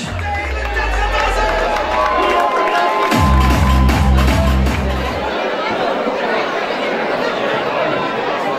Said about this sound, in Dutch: Kan ik een groot applaus?